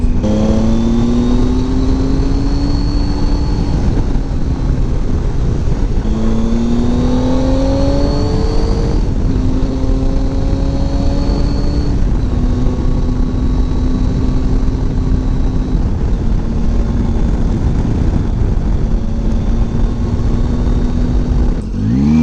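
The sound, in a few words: Triumph Tiger 800 XRT motorcycle engine while riding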